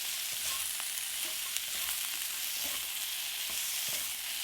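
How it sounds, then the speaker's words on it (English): Kamal kakdi (lotus stem) stir-frying in a pan with salt and black pepper, a dense steady sizzle broken by light, regular spatula scrapes and clicks, close and without talk. "Stir fry"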